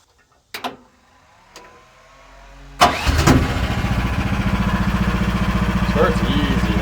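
An AGT QH13R mini excavator's small engine cranks after a couple of clicks and catches, settling into a loud, close, steady rhythmic idle.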